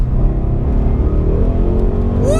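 A V8 car drives hard through a forest section of a racetrack, its engine roaring loud and close without a break, with pitch shifts as it accelerates and a tyre or whine sweep at the end.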